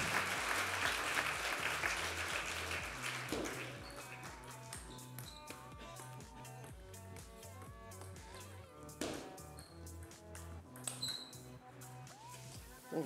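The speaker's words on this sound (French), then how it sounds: "Et on peut les applaudir avant qu'Héloïse ne passe au service." Brief applause for table tennis players rises at the start in a sports hall and fades within a few seconds, followed by quieter taps and knocks with scattered crowd noise.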